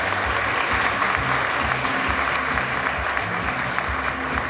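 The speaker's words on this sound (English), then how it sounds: "Let's give her a big round of applause." An audience at a county teacher-of-the-year awards event gives a sustained, even round of applause, thick steady clapping filling the hall throughout.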